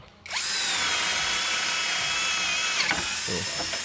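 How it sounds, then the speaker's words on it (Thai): A MASARU MSR-CD204 cordless drill with a removable clutch-screwdriver head bores a hole, its steady high-pitched motor whine running loud and close for a few seconds before easing off with light mechanical clicks. "จะลองเจาะอีกดูนึงนะครับ"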